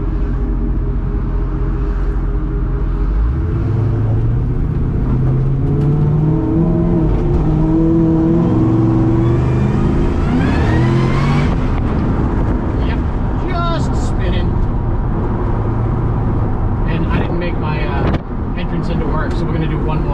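A Chevrolet C10 street truck with a supercharged LSA V8 drives a lap, its engine rumbling steadily and rising in pitch as it accelerates through the middle, with a voice talking over it.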